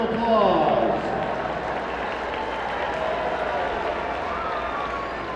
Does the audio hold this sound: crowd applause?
yes